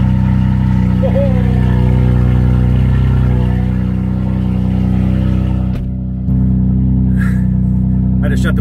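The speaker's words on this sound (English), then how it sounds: "It's pretty damn loud, but we're gonna let this thing idle for a little bit." A turbocharged Honda S2000 engine idles loudly and steadily with a deep droning rumble, briefly dipping before settling again, while people talk over it.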